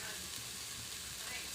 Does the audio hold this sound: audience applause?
no